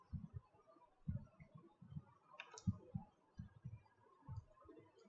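Typing on a computer keyboard, with irregular bursts of soft clicks and key taps at close range and short pauses between them, in a quiet room.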